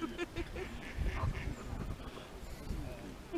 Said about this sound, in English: Are you feeding the ducks?